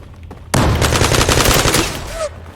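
Rapid automatic gunfire from the video game Zula bursts in suddenly and continues as a loud, close stream of shots for almost two seconds before cutting off, with brief faint noise around it.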